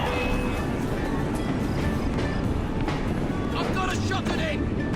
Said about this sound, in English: So this is Kaylock's train.